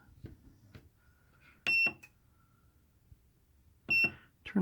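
An overloaded portable power station emits two short, high electronic beeps about two seconds apart, faint against quiet surroundings with a few small clicks.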